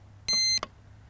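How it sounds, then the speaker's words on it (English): An RC model airplane's receiver binding to its radio gives a short, clear electronic beep followed by a quick softer blip, over low background hum. "you're going to hear it bind up right now with the radio"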